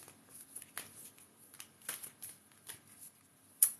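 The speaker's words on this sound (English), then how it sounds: "let's shuffle the moon cards" Tarot cards are shuffled by hand in quick, soft riffling bursts, close and fairly quiet, with a sharper snap near the end.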